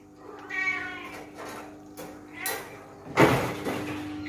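Cat in heat meowing several times in drawn-out, wavering calls, close by and fairly quiet, followed by a sharp sliding or knocking noise near the end.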